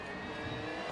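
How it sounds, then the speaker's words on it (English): A small rally car in a racing video game, its engine droning and revving in one continuous, fairly loud burst with no voices over it. "Plucky little car."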